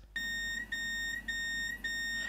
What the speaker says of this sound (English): the driver will hear an alarm in the cab that sounds something like this